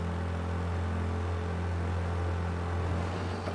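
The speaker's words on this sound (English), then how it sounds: "This little car can get up and go" Small car driving in the video game Mafia: Definitive Edition, a steady low engine drone with a constant hum, continuous and moderately loud, with no talking.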